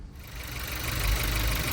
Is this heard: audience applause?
no